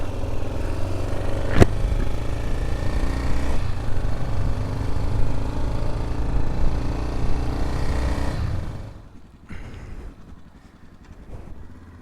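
A Yamaha Ténéré motorcycle on the Transamazônica sputters and runs rough with a low clattering engine drone, one sharp knock near the start, before the noise drops away to near quiet toward the end.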